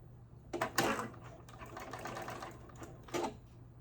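A sewing machine bastes two pieces of skirt fabric together in a quiet, brief run of rapid stitching, with a couple of louder surges.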